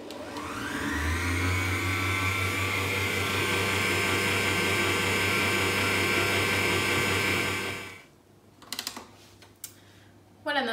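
A Cooking Chef stand mixer runs steadily on speed 2 while mixing cookie dough, a loud continuous motor whir with a low hum that holds for about eight seconds, then cuts off, leaving a few faint clinks.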